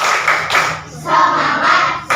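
A school class claps in rhythm as a spirit clap, with dense, loud hand claps in short bursts separated by brief pauses.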